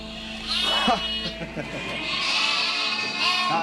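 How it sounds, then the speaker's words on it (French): Lambs bleat loudly for their mothers in a crowded flock of sheep being gathered for shearing in Scotland. Several high, wavering calls overlap in quick succession, close by. "les bêlements qu'on entend, ce sont les agneaux qui appellent leur mère parce qu'ils l'ont perdu dans la cohue"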